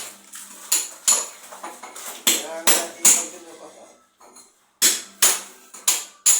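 Sharp, ringing hammer blows sound at a construction site while gutters are being made, in irregular bursts of two or three strikes with short pauses, close and loud, with a few short, quiet gaps.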